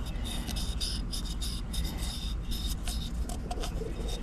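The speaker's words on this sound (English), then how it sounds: "Just rubbing a little bit of oil into it." Steady rasping rub of oil being worked into a cleaned crusty conch shell by hand, continuous close scratchy friction with repeated short strokes throughout.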